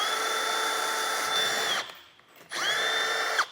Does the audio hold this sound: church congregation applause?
no